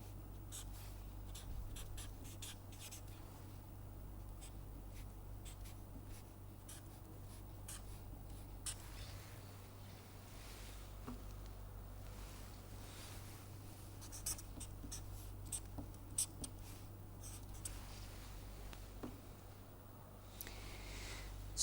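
A pen or marker drawing a dot-dash line across a board or sheet of paper, making soft, steady scratching strokes close by over a low hum, with no talking.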